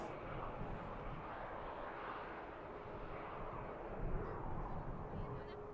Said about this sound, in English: 73 on the way over to the second runway. This aircraft is heading to Corfu